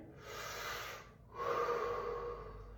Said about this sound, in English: let's breathe together 6 times. In through the mouth, out through the mouth.